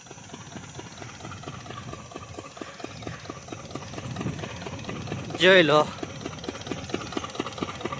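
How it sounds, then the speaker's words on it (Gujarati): A farm water pump engine drawing water from a pond chugs steadily with a rapid, regular knocking beat throughout, while someone speaks briefly over it and a short high sound rises near the middle. "ત્રીજી વખત મેં મશીન ચાલુ કરી દીધું છે અને હવે પાણી મૂકી ન દે તો સારું"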